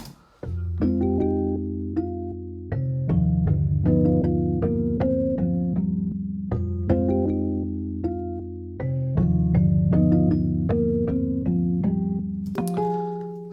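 A slow, plodding synth melody processed with a halftime plugin in quarter-note mode, mixed fully wet, with drawn-out, pitched-down notes repeating in a loop, ending with a brief noisy burst.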